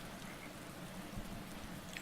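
Steady soft rain patter from a rainy race weekend in the Motorsport Manager game, a faint continuous hiss with light droplet ticks throughout and no voices.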